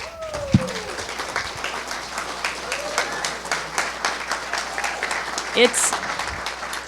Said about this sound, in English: A round of applause for all the candidates.